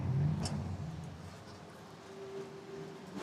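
GT4 race cars at the Sachsenring circuit roll slowly into the pits behind a safety car, a low, fairly faint engine drone with a brief rising rev at the start.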